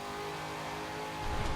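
A 1996 Chevrolet Impala SS police car in the Forza Horizon 4 racing game accelerates in fifth gear, its mid-pitched engine droning steadily close up and swelling slightly louder near the end, with no talk over it.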